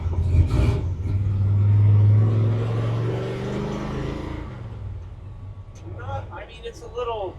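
An 800-horsepower truck engine fires up and revs, a deep steady rumble swelling loud near the start before easing to an idle, with people talking over it toward the end.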